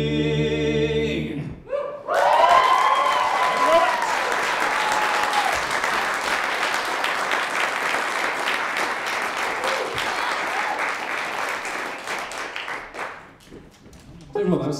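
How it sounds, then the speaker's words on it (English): A live folk concert audience applauds loudly and continuously for about ten seconds, a dense wash of many hands close and full, fading near the end, with a brief burst of singing and instruments at the very start. "that was some of the most impressive staying in time clapping from the audience I've ever experienced"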